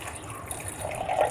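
Water poured into a grinder jar of spices, with cumin, while making a spinach-stem curry, a short, soft trickle that rises slightly toward the end.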